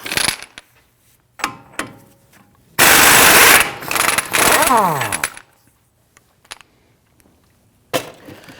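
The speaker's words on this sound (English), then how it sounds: "Using a 32mm socket, we're going to go ahead and loosen and remove the axle nut" Rapid mechanical rattling of a tool working a 32mm socket loosens the front axle nut on a 2010-2019 Ford Taurus, in two loud bursts, with a winding-down whine after the second, surrounded by scattered clanks and knocks.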